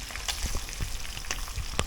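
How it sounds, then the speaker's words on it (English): Small sprat fish fry in a pot of coconut oil, giving a close, continuous crackling sizzle with scattered sharp pops throughout. "So yeah, I'm just frying them up."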